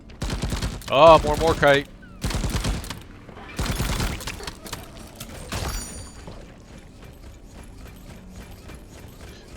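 Rapid bursts of gunfire from the drone Bosco in Deep Rock Galactic crackle in several clustered volleys, loud and close, mixed with mechanical clatter, then fade into quieter ambience while a voice briefly speaks.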